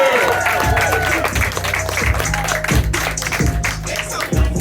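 A comedy club audience in DC claps for a comedian, the applause mixed with loud music and a thumping bass beat that run throughout.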